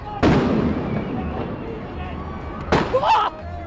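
Rubber bullets fired at protesters during riots in Los Angeles: two sharp, loud pops about two and a half seconds apart cut through a rumbling outdoor street crowd, the second followed by a brief rattling burst.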